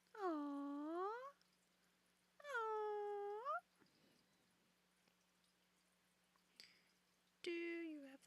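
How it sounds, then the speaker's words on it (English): Several cats give long, clear meows, three drawn-out cries spaced a few seconds apart, close and distinct, with a short soft murmur from a person between them. "Oh, look at these kitties."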